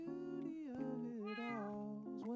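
A tuxedo cat in Minecraft meows several times in quick succession, clear and close, each call bending in pitch, with no talking over it.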